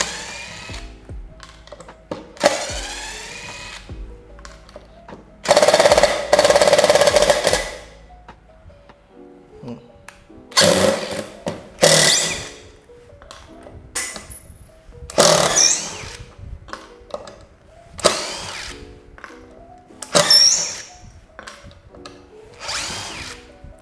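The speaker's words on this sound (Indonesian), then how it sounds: "Ini baut yang pendek, coba speed 1" A Dewalt DCF887 impact driver on speed 1 drives short screws in a series of bursts, a buzzing whirr punctuated by rapid hammering, separated by quiet gaps and small handling clicks.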